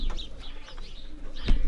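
A racing pigeon in a loft, a young bird placed second nationally in Sweden, coos softly nearby in a short low murmur, followed by a louder burst of rustling near the end.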